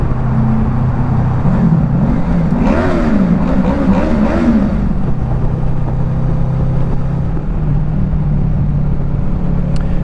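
A Honda VFR800F motorcycle ridden two-up on a windy day: a steady, loud drone of engine and wind buffeting, with a brief rise in engine pitch partway through, continuous and close.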